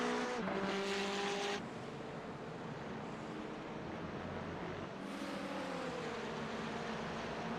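Race cars at speed in a sim racing game on the Circuit de Barcelona, one of them a McLaren, give off a steady engine roar with a louder, higher pass in the opening seconds and a rising whine near the end.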